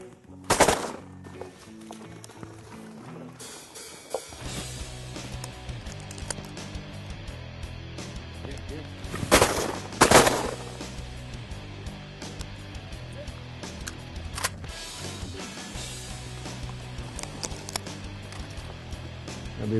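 Guns fire during a duck hunt at Honey Brake, with a couple of loud, sharp blasts close together mid-clip, fainter pops elsewhere, and outdoor ambience with occasional voices in the background.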